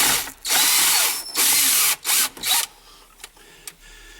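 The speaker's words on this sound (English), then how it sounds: "use your 1-inch hole saw and turn the drill slow" A power drill turns a 1-inch hole saw slowly while cutting holes for a K&M buddy seat on a John Deere 6000-7000 series tractor: several loud, close grinding bursts, each separated by short pauses, then quieter clicks and handling noise.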